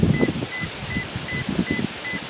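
A Dromida monster truck speed controller emits short high electronic beeps during programming, evenly spaced at a steady rhythm, clear over a low background rumble and handling noise.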